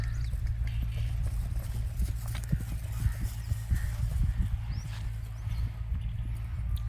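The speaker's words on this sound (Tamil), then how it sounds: "மற்றபடி தெளிவாக ட்ராட்டு நல்லாவே போகுது." A newly acquired horse on its first training ride trots steadily in a circle, hooves clip-clopping in a quick even rhythm over a constant low outdoor rumble.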